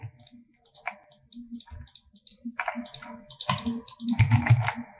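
Computer mouse clicking: a run of sharp, close clicks in quick, irregular bursts, growing busier and louder toward the end, with no talking.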